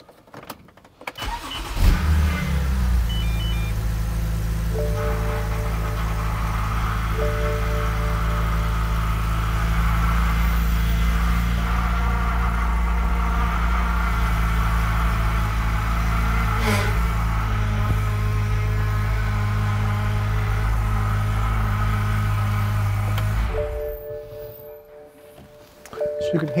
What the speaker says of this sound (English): You can hear all that noise is air in the lines.